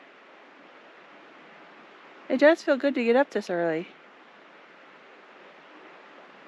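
Water runs steadily at Sycamore Falls, a constant soft rushing wash in the background while a person speaks briefly over it in the middle.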